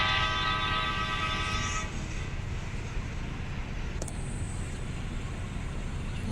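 A train moving in the mobile game Indian Bike Driving 3D: a horn-like tonal blast at the start gives way to a steady rolling rumble with a brief sharp click midway, no speech.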